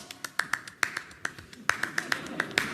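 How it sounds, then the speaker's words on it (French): A claque applauds at a theatre show, giving sparse, sharp hand claps in an irregular patter that grows denser toward the end, fairly quiet, with faint voices in the background. "les applaudissements allaient bon train."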